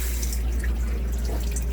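Water drips and trickles from a leaking shower head during plumbing work, a steady close patter over a low, constant rumble, with no talk.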